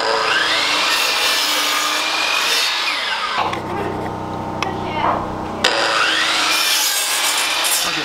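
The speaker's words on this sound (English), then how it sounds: "now we gotta cut the studs" Wooden wall studs being cut with a hand saw in steady back-and-forth strokes, loud and close, running before and after a brief quieter pause with low talk in the background.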